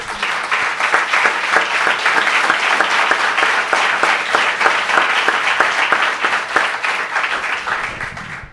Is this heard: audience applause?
yes